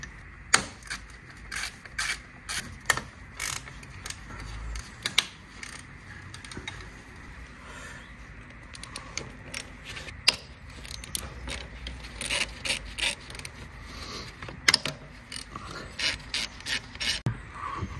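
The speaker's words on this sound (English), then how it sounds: "With the screwdriver, undo this clip." A screwdriver works loose a clip holding household piping, giving quiet, irregular ratcheting clicks and scraping rubs spread across the whole stretch, close and otherwise alone.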